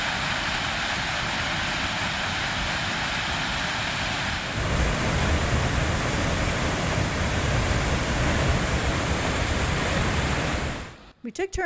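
Gluggafoss, the window waterfall in Iceland, gives a loud, steady rushing roar of falling water that holds unbroken for about eleven seconds and then cuts off abruptly.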